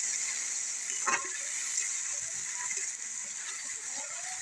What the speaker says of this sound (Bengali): এখানে আদা রসুন জিরে বাটা মশলাটা ভালোভাবে কষায় নিতে হবে